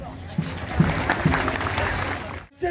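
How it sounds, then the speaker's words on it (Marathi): Clapping from a crowd at an agricultural festival, a brief burst of applause mixed with surrounding voices and murmur, fairly close, ending with a short pause. "एकदा जोरदार टाळ्या कृषी महोत्सवासाठी झाल्या"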